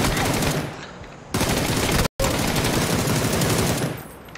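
Rapid automatic gunfire in a competitive tactical shooter round, loud, dense bursts of rattling shots running nearly continuously, broken by one brief silent gap.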